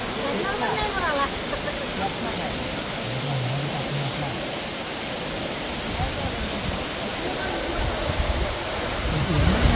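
Steady roar of the Devkund waterfall plunge pool, a broad continuous wash of falling water that stays loud and even throughout, with faint voices of visitors mixed in.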